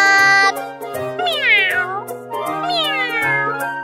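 A cat meows at night in a children's song, several drawn-out rising and falling meows sounding loud and close over a steady plucked musical backing.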